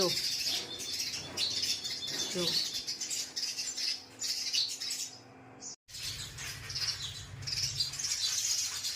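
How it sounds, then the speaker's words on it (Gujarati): Many house sparrows chirp busily and continuously, close by, with a flutter of wings and a brief drop to near silence before the chatter resumes. "જો ચકલીઓ કેટલી મોજમાં આવી ગઈ છે આજ."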